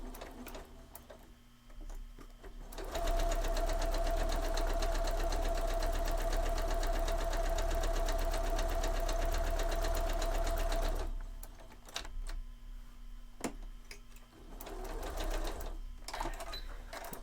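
A sewing machine stitching a quilted Santa cookie rug runs in one steady, loud, rapid whirring burst of about eight seconds, with quieter handling and small clicks before and after.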